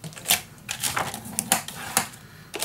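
Paper folded by hand for a half inch hinge in a mini album, a series of sharp crisp crinkles and creases at close range, spaced irregularly across a few seconds.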